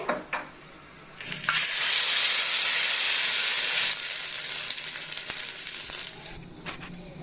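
Dried red chillies for chutney hit hot oil with a sudden loud sizzle that holds for a few seconds, then settles into a quieter, crackling hiss as the frying continues.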